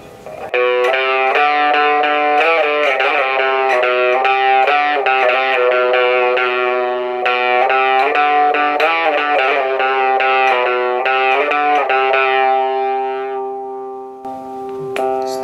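Epiphone Les Paul electric guitar played clean through a JOYO JA-01 mini amplifier, ringing out a steady run of sustained, chiming notes and chords at close range, then fading to near silence at the end.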